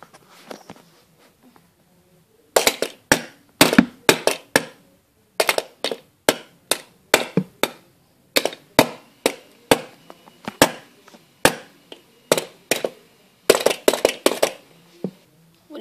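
Sharp, ringing hammer strikes in irregular bursts of several blows with short pauses between, loud and close with nothing else audible.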